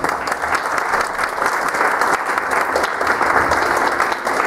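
Church congregation giving a strong, sustained round of applause during a Sunday sermon, steady dense clapping throughout.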